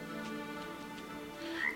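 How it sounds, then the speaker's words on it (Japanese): Frogs croak in the video game Rime, a steady ambient chorus of repeated calls at moderate level with no talking. "カエルの鳴き声"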